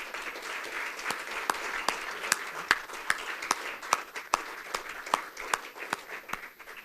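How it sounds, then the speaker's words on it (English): Audience applause during a Caribbean Development and Cooperation Committee session, a steady, moderately loud round of clapping with sharp individual claps standing out, no talking. "you can give them a better round of applause than that"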